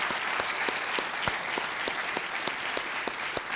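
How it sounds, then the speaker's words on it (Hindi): A studio audience on a television quiz show applauds a contestant, dense continuous clapping from a crowd with sharper individual claps standing out, no voices over it. "तालियों के साथ इनका अभिनंदन"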